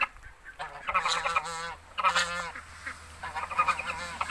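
Several geese honk loudly at close range in repeated, overlapping calls, with short pauses between the bursts, while guarding ducklings.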